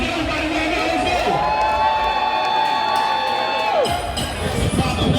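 Crowd at a live hip-hop show cheering and whooping loudly, with shouts and some clapping over a sustained musical tone that cuts off near the end, dense and close.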